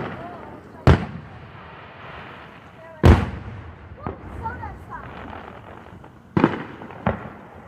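Fireworks exploding in the sky: several loud, sharp booms spaced a few seconds apart with rumbling tails and crackle, as people chat nearby between the blasts.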